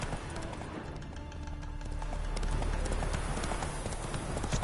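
Roach the horse gallops in The Witcher 3, a rapid, steady run of hoofbeats close by under a layer of game ambience.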